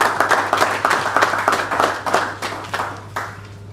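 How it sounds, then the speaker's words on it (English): Audience clapping at a mobile and disruptive technology forum, a steady round of fairly close, rhythmic handclaps over a low electrical hum, lasting the whole few seconds without talk. "Please, a round of applause."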